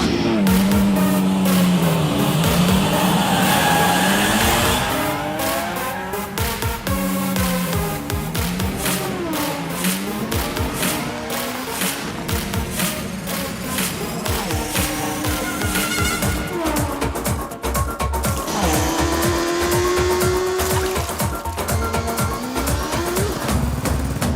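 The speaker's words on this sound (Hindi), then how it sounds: "अब शुरू होगी असली रेस, बस देखते जाओ रंगीला।" Cars race through a scene in a Hindi-dubbed South Indian movie, with loud engines revving and rising in pitch and tires squealing, continuous and close for the whole stretch.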